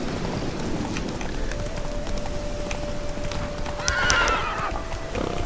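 The horse Roach gallops in The Witcher 3, with a steady rhythmic hoofbeat under a continuous ambient bed and a brief rise in activity near the end.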